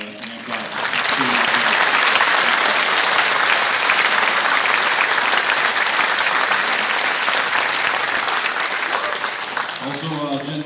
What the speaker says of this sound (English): How about another hand clap?